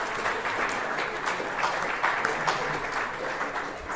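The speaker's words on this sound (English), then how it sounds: "Sophie, receive the applause" Steady applause fills a hall for an award recipient at a sixth form prize giving, with a continuous dense clapping crowd and no speech over it.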